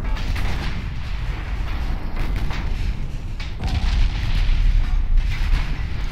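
Naval ship guns boom in an Ultimate Admiral Dreadnoughts battle, a dense, loud barrage of heavy low rumbling blasts rolling continuously with no break, distant cracks layered over a constant roar.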